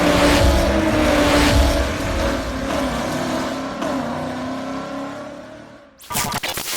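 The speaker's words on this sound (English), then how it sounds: "this is a 2008 C6 Corvette Z06 that I have recently purchased" The engine of a 2008 C6 Corvette Z06 revs hard, a loud, close, steady high-pitched roar that climbs and holds for several seconds before cutting off, followed by a brief burst of sharp mechanical noise.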